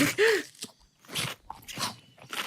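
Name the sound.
crunchy biting sounds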